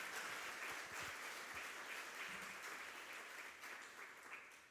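Soft, distant applause from a summit audience rolls on steadily for several seconds, faint in a large room.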